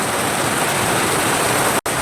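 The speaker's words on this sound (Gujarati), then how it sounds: "અત્યારે જોવા જોરદાર વરસાદ ચાલુ થઈ ગયો છે" Heavy rain pouring down, a dense, even rushing hiss that fills the whole moment, briefly cutting out near the end.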